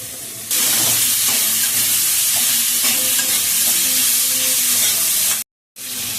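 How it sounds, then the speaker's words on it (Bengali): Small cut potatoes fry with Malabar spinach in a pan, giving a loud, steady sizzle and hiss that jumps up when they hit the oil, with occasional stirring, then a brief silence and the sizzle resuming. "এবার এই ছোট ছোট করে কাটা আলুগুলোও দিয়ে দিলাম এর ভিতরে, একটু ভাজা হোক।"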